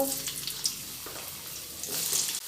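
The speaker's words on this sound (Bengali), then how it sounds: "আমি একে একে সব সবজিগুলো ভেজে নেব প্রথমে দিয়ে দিলাম আলু" Potatoes frying in hot oil with panch phoron, a steady bright sizzle holding through the stretch, with a brief clatter or stir near the start and a short dip near the end; no talking.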